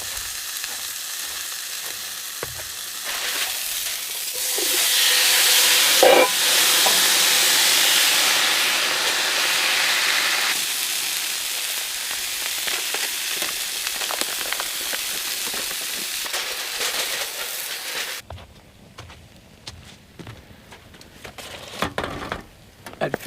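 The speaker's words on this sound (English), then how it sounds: "I flipped the pork chop, letting it get seared on the other side and cooked" A thick pork chop sears in a pan on a metal table at a snowy camp, giving a broad, steady sizzle that swells loudly mid-clip, then drops away to quieter scattered crackles near the end.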